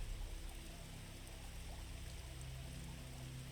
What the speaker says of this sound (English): enjoying the soothing sound of the flow of the water